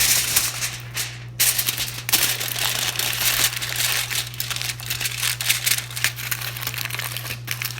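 Aluminum foil being crumpled around a polymer clay egg form, a continuous loud crinkling and crackling close by with irregular bursts of rustle over a steady low hum.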